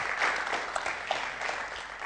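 An audience breaks into steady, dense applause, many hands clapping together at an even level throughout, with no voices standing out.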